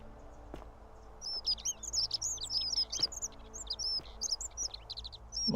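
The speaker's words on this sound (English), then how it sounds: "A bird?" Birds chirp and tweet in quick, bright bursts throughout a game setting in The Forgotten City, close and fairly clear over a low ambient hum.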